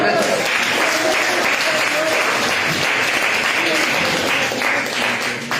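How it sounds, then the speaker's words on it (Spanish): A church congregation breaks into loud, sustained applause, the dense clapping filling the whole stretch with murmured voices beneath. "denle un aplauso al Señor"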